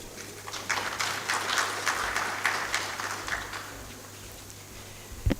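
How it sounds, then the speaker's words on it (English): Audience applause after a speech at a high-level forum on climate change and food security, with steady clapping spread through a hall that holds for several seconds at moderate loudness, a low hum beneath it and no talking. "One more round of applause for him as he takes his seat"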